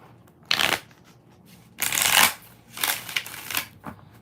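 Tarot cards are shuffled in several quick riffling bursts, crisp and close, with brief quiet gaps between them.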